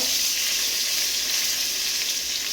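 Dried red chillies frying in hot oil, a dense continuous close sizzle at steady loudness with no breaks or voices.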